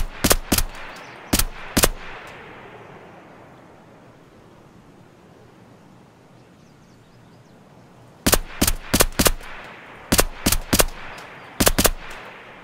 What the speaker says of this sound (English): how many shots do I gotta put in him?